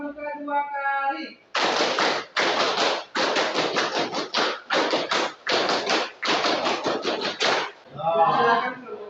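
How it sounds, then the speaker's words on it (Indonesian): A classroom of high-school students performs the scout clap twice in unison, sharp loud group claps in a quick patterned rhythm, with a short burst of voices at the end. "Tepuk pramuka 2 kali."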